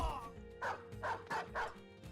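During a battle in the video game Battle Brothers, a dog barks four times in a quick, evenly spaced series, fairly close and clear over a low background.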